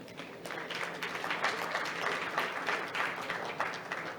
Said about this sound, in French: ça mérite des applaudissements, non?